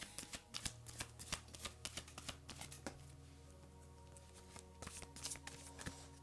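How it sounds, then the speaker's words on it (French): Oracle cards being shuffled and drawn by hand, a long run of soft, close papery slaps and flicks in an uneven rhythm, fairly quiet under a steady low hum, with no voices. "On va continuer à prendre des cartes."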